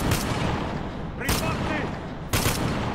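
Gunfire in the Spec Ops: The Line video game, with sharp bursts of shots near the start, middle and end over a steady battle din, plus faint voices mixed in.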